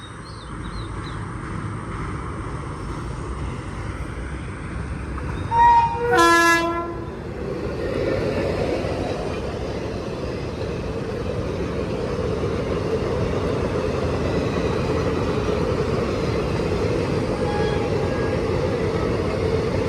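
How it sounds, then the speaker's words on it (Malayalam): A passing train sounds its horn briefly and then rumbles by steadily, a long, continuous rolling noise with faint rail clatter outdoors. "വീണ്ടും ഒരു ട്രെയിനും കൂടെ വരുന്നുണ്ട്"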